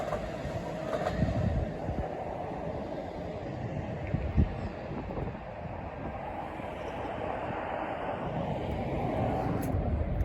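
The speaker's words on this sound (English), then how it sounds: "we got a train that just came past." A train rolls past below an elevated viewpoint near many tracks and a monorail, a continuous loud rumble and rattle of wheels on rails with occasional clanks, heard alone.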